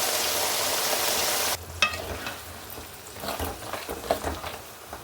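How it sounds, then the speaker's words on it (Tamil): Garlic frying in sesame oil for pickle, a loud steady sizzle that suddenly drops off, followed by quieter crackling and scraping stirs in the pan. "இப்போ நம்ம பூண்டை நல்லா வறுத்து எடுத்துக்கலாம்"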